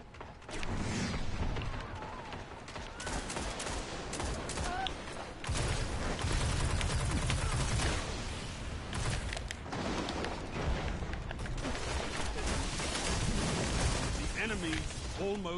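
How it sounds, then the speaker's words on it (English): Rapid auto rifle fire in Destiny, a dense, continuous burst of loud shots layered with explosions and busy combat noise that barely lets up from start to finish. "right now I have to use auto rifle"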